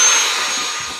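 A vacuum cleaner hoses down Tesla floor mats in a driveway, giving a steady, loud, close rushing whoosh that fades slightly over one second with no talking.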